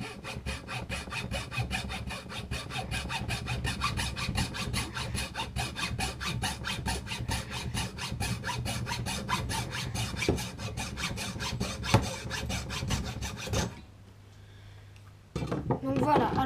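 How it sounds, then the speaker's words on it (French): A hacksaw cuts through wood at an angle in fast, even back-and-forth strokes, close and steady for most of the stretch, pausing briefly near the end before sawing resumes. "j'utilise toujours la scie à métaux pour faire l'angle"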